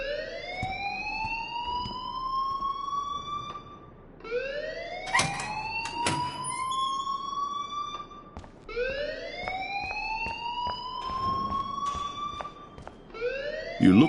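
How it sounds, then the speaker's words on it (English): In the Life Is Strange video game, a wailing alarm sweeps upward in repeated rising cycles about every four seconds, loud and continuous, with sharp clanks and bumps breaking in between. "please turn off that alarm since that's your job"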